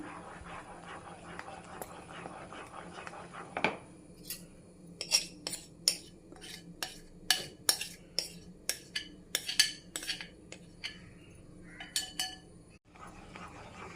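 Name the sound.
stirring ghee Mysore Pak mixture in a pan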